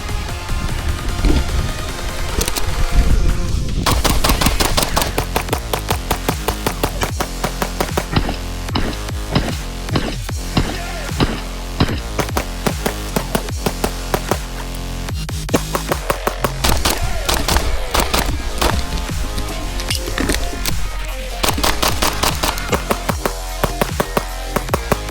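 A Sig P226 X Legion pistol firing rapidly at close range, with sharp shots in quick strings and brief pauses between volleys, sustained and loud throughout.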